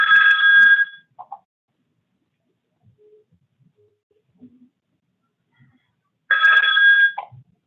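Two bursts of a telephone bell ring out clearly, about five seconds apart, with near silence and a few faint knocks between them.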